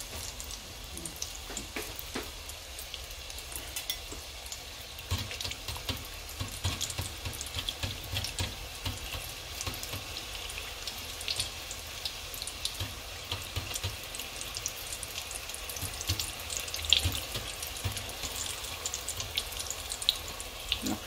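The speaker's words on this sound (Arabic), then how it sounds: "انا نكمل نقلي هادو" Grewich pastry frying in moderately hot oil, a continuous close hiss and crackle of bubbling oil with scattered small pops, steady throughout with no talking.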